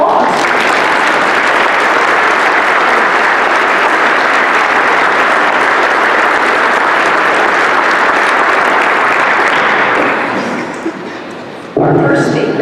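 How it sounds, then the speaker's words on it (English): A big round of applause at a judge's investiture ceremony, dense and steady from a large audience for about ten seconds before fading out, followed by a brief sound at the end. "You now may give everyone whose name you just heard a big round of applause."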